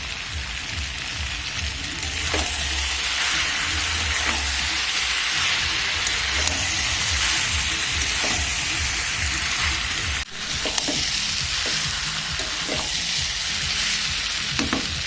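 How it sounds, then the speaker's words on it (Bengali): Meat with meat masala and a little sugar being sautéed in a pan, loud continuous frying hiss with repeated scraping stirs and clicks of a spatula throughout, no talking. "আমার মাংসটা ভালো করে কষানো হয়ে গেছে"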